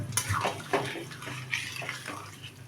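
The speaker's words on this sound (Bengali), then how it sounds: "এতে আমি পরিমাণ মতো জল দিয়ে দিচ্ছি" Water splashes into a cooking pan holding pumpkin stems, a few uneven gushes and sloshes up close with no voices over them.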